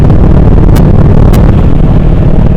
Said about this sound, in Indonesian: Wih, kenceng banget ini anginnya.